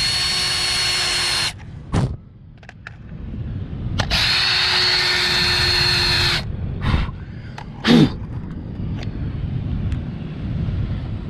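A power drill bores into hard material in several separate bursts: a loud whirring run, a pause, a second long run, then short spurts, with quieter background noise between them.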